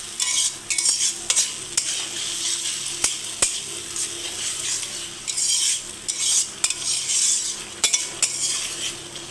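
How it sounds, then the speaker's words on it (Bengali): Spice masala with garlic and tomato fries in a pan, a close sizzling hiss broken by repeated sharp clinks and scrapes of a metal spoon stirring against the pan, no talking. "আমি মশলাটা একটু ভেজে নেব, কেননা রসুন আছে, টমেটো আছে"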